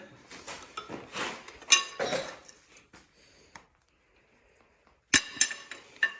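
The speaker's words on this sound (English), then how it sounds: "let me get these push rods out of here" Metal push rods pulled out one by one from a C50 engine during teardown, giving bright metallic clinks and rattles in bursts, a quiet pause, then another sharp clatter.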